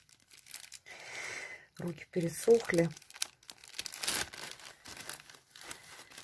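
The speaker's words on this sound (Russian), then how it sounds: "вот сейчас я открою зип-пакет" A zip-lock bag of dried sphagnum moss is opened with loud, close crinkling and rustling of plastic, short bursts broken up by a few spoken words.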